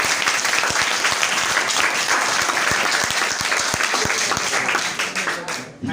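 Audience at a public speaking contest gives a big, loud round of applause for the organizing team, a dense, energetic crackle of many hands with individual sharp claps standing out, tapering slightly before ending.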